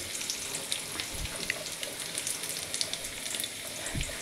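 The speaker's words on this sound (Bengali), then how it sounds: "আলু ছেড়ে দেওয়ার পরে আমি এটাকে আস্তে আস্তে এটা ভাজবো" Potato pieces frying slowly in oil for a drumstick curry, a faint, steady crackling sizzle with a few soft stirring bumps, no voices.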